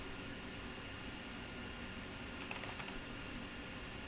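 Soft keystrokes on a computer keyboard, a short cluster of quick taps over a faint steady fan hum in a quiet room.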